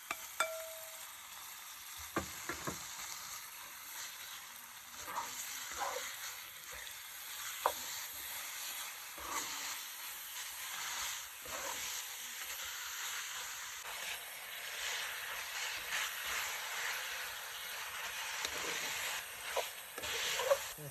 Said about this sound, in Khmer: រួចឆាឲ្យវាឈ្ងុយបន្តិចសិនទើបនេះខ្ញុំចាក់សាច់គោចូល